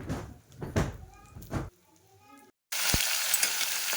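Cauliflower and potato pieces frying in hot oil in a home kitchen, starting with voices over the pan before a loud, steady sizzle takes over for the final second and a half.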